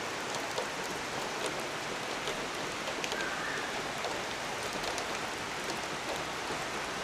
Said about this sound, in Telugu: రెయిన్ కంటిన్యూస్గా పడుతూనే ఉంది